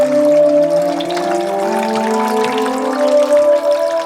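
A hydraulophone, a water-jet instrument with individual pipes, sings sustained, organ-like tones that shift in pitch as a jet is obstructed, over a bubbling rush of water.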